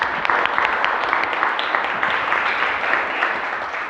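Hearty applause from the audience at a Bhagavad Gita class, a dense, steady clapping that fills the room for a few seconds without letup.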